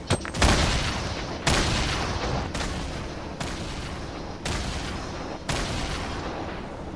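Repeated gunfire in Fortnite during a fight, six loud separate shots spaced about a second apart, each a sharp blast trailing off into echo, with no talking over them.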